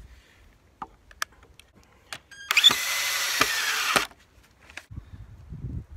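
A power drill drives a screw to fasten a guide for a chainsaw beam mill, a close whirring run of about one and a half seconds set between light knocks and handling clicks, with no talking.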